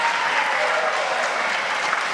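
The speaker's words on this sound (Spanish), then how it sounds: "Está muy bien que aplaudan." Sustained audience applause in a large hall at a formal political address, dense steady clapping at a loud, even level throughout with no pauses.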